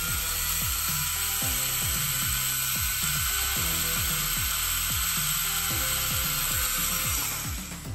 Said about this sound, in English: it will drill through plastic absolutely fine